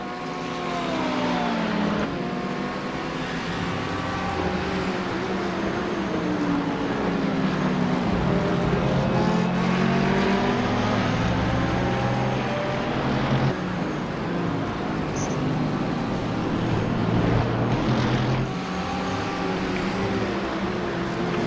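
Ferrari GT race car engine in an iRacing race at Twin Ring Motegi, a steady loud drone whose pitch climbs and falls through gear changes for the whole stretch, with other car engines layered underneath.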